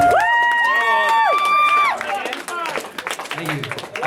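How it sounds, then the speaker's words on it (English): A loud held vocal tone slides and fades, then scattered hand claps and cheering follow in an uneven rhythm from a convention audience at ConBravo 2013. "Both of you clap."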